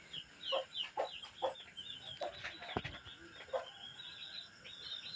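A rooster and chickens cluck and call in a home compound coop, repeated near clucks with a dog barking in the mix and a bit of background voice.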